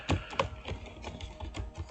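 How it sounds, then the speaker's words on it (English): Typing on a Gigabyte Aorus 17x gaming laptop keyboard: quick, uneven clicky keystrokes in close succession, heard up close and alone for two seconds. "I can do a little typing here."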